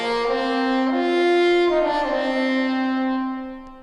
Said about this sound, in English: As far as the preset, we're using the French horns preset